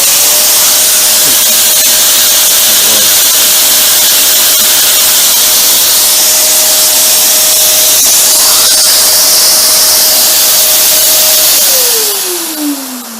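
An LG vacuum cleaner runs at full suction, a loud, steady close roar with a constant motor whine that winds down and drops in pitch as it shuts off at the end.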